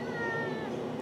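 A house cat meows in a long, drawn-out, agitated caterwaul lasting about a second, close and loud with no talk over it.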